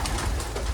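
Pigeons coo softly inside an abandoned chapel, a brief low murmur over faint roomy background noise.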